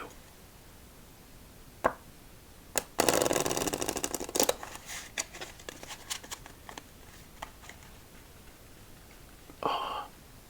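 A deck of playing cards is riffled and bridged during a solitaire game: a burst of dense, close-up fluttering clicks follows a few single taps, with scattered card snaps after it and one more brief riffle near the end.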